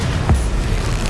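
A Confringo explosive spell goes off in a Harry Potter wizarding video game, a single short low boom with a quick burst, set against a steady rumbling game background.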